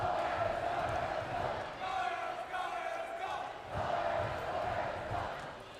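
A high school student section cheers and yells in unison at a volleyball match in a gym, rhythmic crowd shouting that swells and dips across several seconds with a voice layered underneath.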